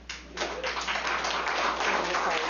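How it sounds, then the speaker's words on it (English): Audience applause fills a Senate hearing room on vote counting in Michigan, a steady wash of many hands clapping at moderate distance that continues without a break for the whole stretch. "Members of the audience, I would appreciate if you would withhold applause"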